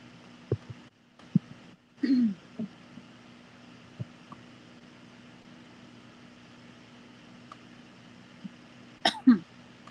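A person coughs a few times while crocheting with yarn indoors: two short, fairly close coughs early on, then another pair near the end, over a steady low room hum with no talking.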